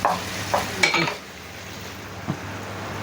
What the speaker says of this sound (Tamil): இந்த கிரேவிக்கான வெங்காயம் போடுறாங்க, பிரியாணி கிரேவிக்காக